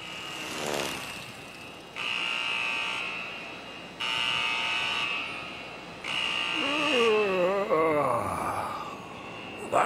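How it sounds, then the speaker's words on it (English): An alarm clock buzzer goes off in repeated long, harsh electronic blasts of about two seconds each, loud and steady, with a voice and other sounds mixed in near the end. "That's my alarm."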